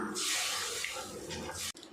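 Water is poured into a pan of brinjal gravy, a continuous close splashing gush that ends with a sudden cutoff.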